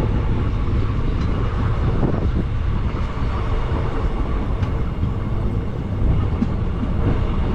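At Palani railway station, a train roars steadily and loudly close by, with rumbling, rattling and wind buffeting and no break.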